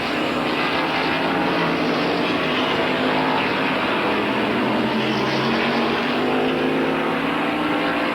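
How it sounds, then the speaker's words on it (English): Can-Am race cars, including a Chevrolet-powered leader, lap Road America in 1980, their engines blending into a continuous loud roar that fills the whole stretch without speech. "here's the leader, Holbert, lapping slower traffic as the Forbes-Robinson and Brabham confrontation rages"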